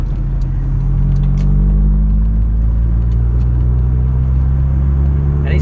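A Mk2 Vauxhall Cavalier "Rat-Cav" with an SRi130 engine runs steadily nearby, a loud, even low rumble with no voices over it.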